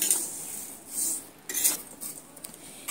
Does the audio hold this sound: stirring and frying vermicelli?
yes